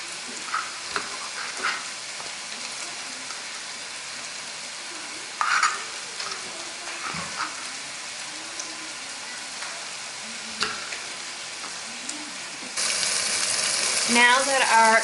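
Sausage sizzles and crackles steadily in a frying pan for pasta dishes, with a few clattering stirs and a louder burst of frying near the end.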